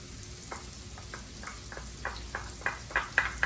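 Garlic and shallots fry in a pan with a steady background sizzle, broken by a series of short stirring scrapes that grow louder and more frequent toward the end.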